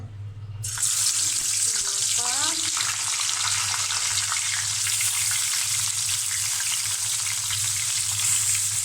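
Fish fries in hot oil, a steady close sizzle that swells in after a quiet start and runs on evenly, with a few faint clinks early on.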